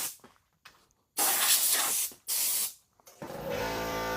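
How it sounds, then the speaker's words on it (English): Air compressor in a woodturning shop running with a steady, loud hiss that cuts in and out in long bursts, ending with a lower motor drone. "Now you guys get to hear the air compressor running"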